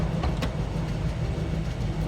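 A 1961 Chevrolet Corvette C1 engine rumbles steadily at close range as the classic car pulls away, a continuous low drone without speech.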